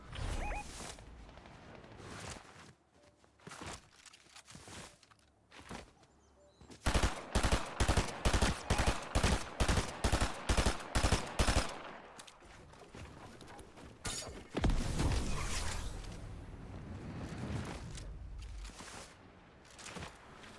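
Thunderburst fire in the Fortnite video game rings out as scattered sharp shots, then a rapid, evenly spaced burst of about a dozen loud cracks midway, followed by a denser clatter of gunfire.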